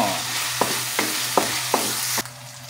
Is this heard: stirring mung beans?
yes